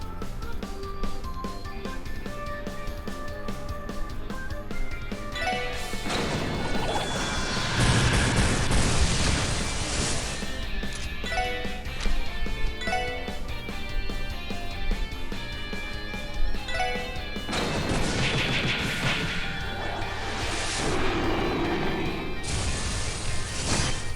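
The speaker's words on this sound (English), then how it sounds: "Let's try shooting a giant laser beam at him." A giant laser beam attack in the video game Trails From Zero, made of sweeping bursts, crashes and booming blasts layered over game music, with big surges in the middle and near the end and no voices.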